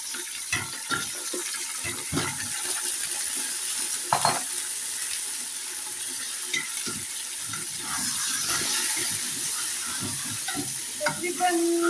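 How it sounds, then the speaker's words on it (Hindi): Chicken stirred and fried in a pot with golden-fried onions for biryani pulao, giving a steady sizzle with repeated scraping and stirring clatters throughout, close and fairly loud. "इसमें अब चिकन डालती हूँ।"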